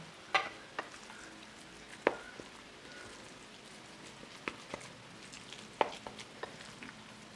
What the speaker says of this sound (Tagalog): Halo-haloin mo lang yan. Para mahalo lahat ng ingredients natin.